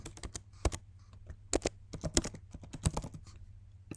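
A name and email are typed on a computer keyboard in quick, irregular clusters of close, crisp key clicks with brief pauses.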